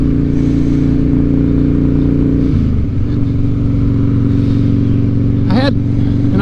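A Harley motorcycle engine idles steadily and loudly close by, its low rumble shifting pitch midway, with a brief higher whine near the end.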